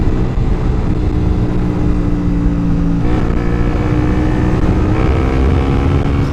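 Suzuki GSX 125 motorcycle exhaust being revved up close, a loud, continuous raspy engine roar with pitch rising and falling across repeated throttle blips.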